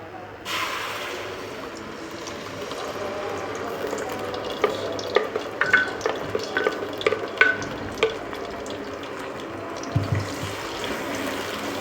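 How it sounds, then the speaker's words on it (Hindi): Ground ginger-garlic masala hits hot oil for a mixed vegetable sabji, setting off a sudden close sizzle that keeps frying steadily, broken by sharp clacks and scrapes of stirring. "ऑयल हमारा गर्म हो गया। अब हम इसमें जो हमने ग्राइंड किया हुआ मसाला था वो हमने सारा इसमें शामिल कर देना।"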